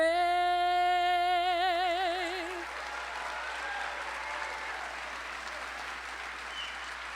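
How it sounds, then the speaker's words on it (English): Applause for a national anthem singer at a State of the City address: a sung note with vibrato fades out in the first seconds, then broad, even crowd applause fills the rest, steady and fairly distant. "keep that applause going for Miss Ariana White"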